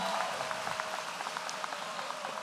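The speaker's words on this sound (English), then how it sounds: "Let's give them both another big round of applause," Graduation audience at a West Wood Academy ceremony applauding in a steady, moderately distant wash of many hands, with a tonal hum underneath and no clear voices over it.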